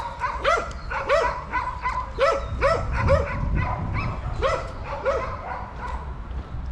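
Several stray dogs in Shkodër, Albania, bark repeatedly, close by and fairly loud, their barks overlapping in an uneven, continuous volley with no talking.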